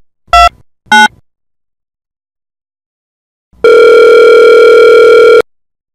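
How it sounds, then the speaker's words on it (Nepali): Telephone call to a child helpline in Nepal: two short loud beeps, a pause, then a steady tone held for about two seconds, clear and alone. "म 10-9 बाल हेल्पलाइनमा फोन गर्छु"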